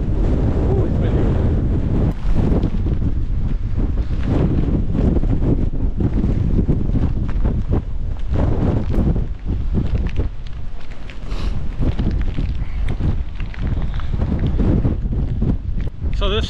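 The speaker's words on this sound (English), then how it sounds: "Ooh, it's windy." Strong wind buffeting the microphone on Signal Hill, Newfoundland, a loud, constant roar with gusty surges throughout.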